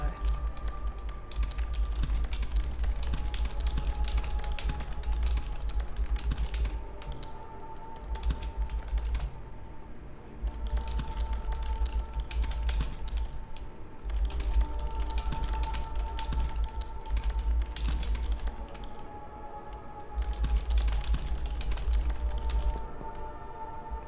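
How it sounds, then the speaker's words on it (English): Keyboard typing from play of the game Dead Letter Dept. runs in rapid bursts of clicky keystrokes with short pauses, a low thump recurring beneath, and a faint voice speaking at times. "The spacebar is so satisfying in this, by the way."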